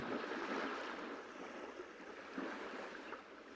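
Ocean waves wash onto a beach as a steady, full surf roar that swells gently and softens again, close and continuous, with no voices.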